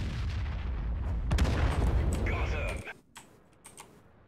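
An artillery gun fires in World of Tanks, a loud booming blast with a long rumbling roll that fades out after about three seconds, followed by quieter mechanical clicks.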